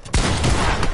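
Video game gunfire in a 1v1 match: a dense, loud burst of rapid shots starting abruptly and continuing steadily to the end, with no talk over it.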